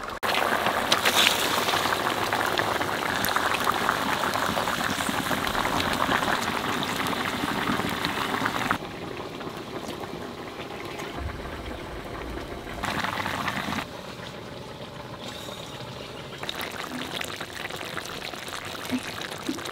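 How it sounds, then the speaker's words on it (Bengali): Thin hilsa fish curry with eggplant boiling in a pot, a continuous bubbling, rain-like hiss that drops in level partway through and stays steady and close, with no talk. "বাগুন দেওয়ার পরে পাঁচ মিনিট জাল দিছি"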